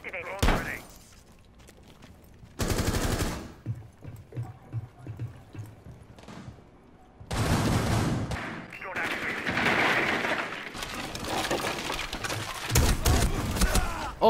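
Gunfire and breaching bangs in the tactical shooter Rainbow Six, several loud bursts of shots and impacts separated by quieter stretches, with someone talking between them.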